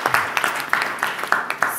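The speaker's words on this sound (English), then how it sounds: "a round of applause to them for really caring about this next generation" Audience applause at a PR Week panel event, a short burst of clapping with irregular sharp hand strikes spread across a couple of seconds, fairly close and full.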